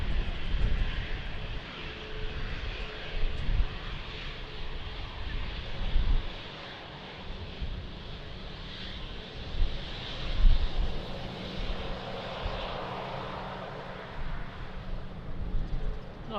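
A Ryanair jet lands in strong gusty wind at Lisbon Airport, a broad steady engine roar mixed with heavy wind buffeting on the microphone, sustained throughout with faint talk in the background.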